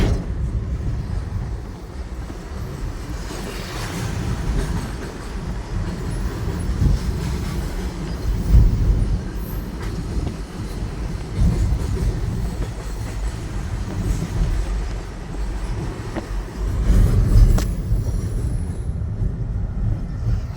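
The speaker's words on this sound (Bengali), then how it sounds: "ফারাক্কা ব্রিজের মধ্যে বাংলাদেশের ট্রেন যাচ্ছে।" A Bangladeshi train crosses the Farakka bridge, its wagons rumbling and clattering continuously nearby, with rhythmic wheel knocks and a faint squeal over the steady roar.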